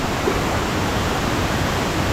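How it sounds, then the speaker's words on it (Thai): A waterfall in Chaloem Rattanakosin National Park, Kanchanaburi, Thailand, gives a steady, dense rush of falling water that fills the whole short stretch at an even loudness, with no voices. "แล้วก็มีวิวน้ำตก ชดเชยให้นิดหน่อย"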